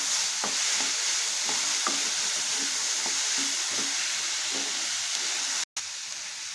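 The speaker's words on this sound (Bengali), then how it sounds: "এটাকে কিন্তু এইভাবে গ্যাসের সিলিন্ডার লো করে আরও কিছুক্ষণ ভেজে নেবো" Cauliflower fries over a low gas flame with ginger-garlic paste, turmeric and salt, giving a soft continuous sizzle dotted with light stirring taps, close by, with a brief cut of silence near the end.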